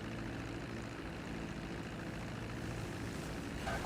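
A propeller airplane engine drones steadily as the aircraft comes in to land in GTA 5 role-play, a constant low hum with no talk over it.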